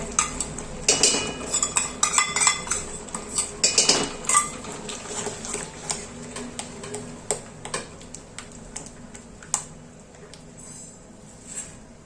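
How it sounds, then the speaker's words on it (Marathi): Paneer gravy being sautéed in a pan, with a utensil repeatedly scraping and clinking against the metal in irregular close strokes over a faint background sizzle, louder early and thinning out toward the end. "आणि छान परत तेल सुटेपर्यंत परतून घ्यायचे."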